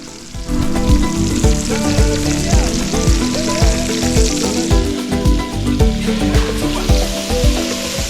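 Lamb knuckle pieces fry in olive oil in a cast-iron potjie over a fire, giving a steady, close, loud sizzle with crackling pops and occasional knocks of metal on the pot.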